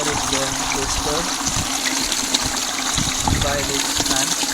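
Water churned and agitated in a small model treatment tank, a continuous close trickling and gushing with pump-like bubbling, while someone speaks over it.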